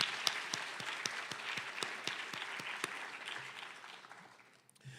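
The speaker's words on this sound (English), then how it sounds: "Can we give her also a round of applause this afternoon?" A crowd claps steadily for several seconds at a high school National Honor Society induction ceremony, with sharp individual claps standing out, then the applause tapers off and fades near the end.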